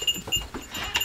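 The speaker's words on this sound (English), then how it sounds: "Next stop, goats." Goats bleating and shuffling in a small farm barnyard in the morning, short close calls and movement repeating in quick bursts.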